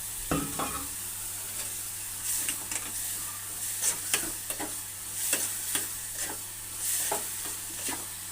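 Puliyogare tamarind rice being stirred and mixed in a pan, with irregular scraping and tapping strokes of a spoon against metal over a soft sizzle and a low steady hum, no talk.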